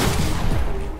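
Gunfire in the Fortnite video game, a dense burst of shots rattling continuously and loudly throughout the short moment with no voices over it.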